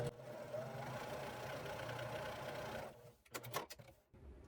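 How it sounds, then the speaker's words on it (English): Sewing machine stitching strips of quilt fabric, a steady fast mechanical whirring hum for about three seconds, then stopping into a few short bursts and clicks as it slows. "I'm going to put it under my sewing machine"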